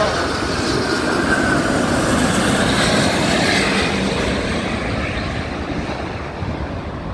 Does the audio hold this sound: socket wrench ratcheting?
no